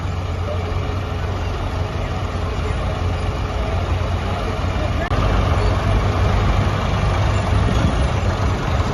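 A large farm tractor, a massive 590, idles at a charity tractor run, a steady deep engine rumble that holds throughout, with people talking nearby over it.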